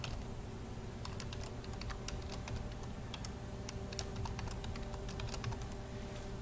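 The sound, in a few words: typing a password on a computer keyboard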